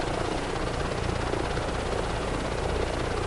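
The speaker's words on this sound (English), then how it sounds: "helicopter tour with Paulie over here, you know?" Helicopter in Microsoft Flight Simulator 2024 on a tour flight, a steady loud rotor and engine drone with constant pulsing chop throughout, no talk.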